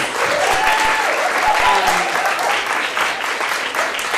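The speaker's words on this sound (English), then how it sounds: "give a round of applause to our technicians" A live symposium audience gives a sustained round of applause for the event's technicians, full and continuous clapping with faint voices and a few cheers mixed in.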